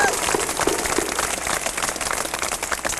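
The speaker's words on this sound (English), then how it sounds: "Clap it up." Graduation audience clapping in a hall, a short continuous burst of dense applause filling the whole moment with a few crowd voices mixed in.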